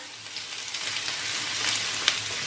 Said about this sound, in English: in my pot that is already preheated over here with some oil, I'm going to go ahead and add my onions, my garlic, my hot pepper